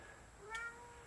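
A stray cat with a kinked tail gives a single short, faint meow against a quiet background.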